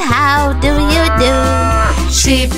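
A sung moo in a children's nursery rhyme about farm animals, a melodic cow call carried loud and continuous over bright backing music with a steady low beat.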